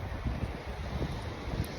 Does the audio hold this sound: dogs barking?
no